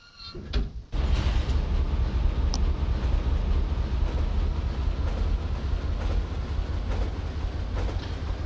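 A tram in Resident Evil 3 Nemesis starts with a brief clunk, then rolls along its tracks in a loud, steady rumble with faint rattles and metallic clicks.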